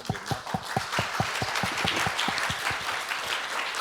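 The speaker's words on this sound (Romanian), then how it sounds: "asta vreau să mai aplaudăm o dată pe Irina" An audience at the BIMcon Summit 2022 conference applauds a speaker, with distinct hand claps forming a lively, even round of clapping that carries on throughout at a moderate, fairly distant level.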